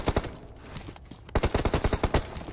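Quick pistol shots in the PUBG Mobile video game, a rapid string of sharp, loud reports after a short lull, fired in close succession.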